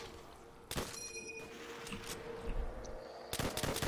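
Gunfire in Call of Duty World at War custom zombies, with loud sharp blasts near the start and end over a steady background of game noise; there is no talk.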